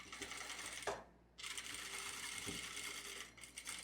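A sewing machine runs a reinforcing seam on a long casual skirt near the slit opening, a steady close mechanical whir with a brief pause partway through before stitching resumes.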